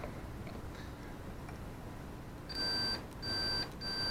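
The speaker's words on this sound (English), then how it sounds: "it beeps when there's a closed circuit" A Fluke 37 multimeter set to continuity test gives a pure high-pitched beep, sounding three times in short bursts after a quiet stretch, close and clear.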